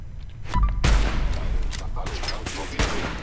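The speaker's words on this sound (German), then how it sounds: "Ja, und ich schieß dir in den Rücken." Gunfire in the video game Fallout 4: several sharp, loud shots and bursts crack out in quick succession over a short stretch.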